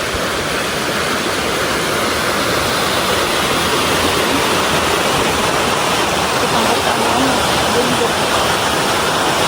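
A loud, steady rush of river water pouring over a small dam in a clear, shallow mountain stream in Gen. Nakar, Quezon, a continuous broadband roar close by with no breaks.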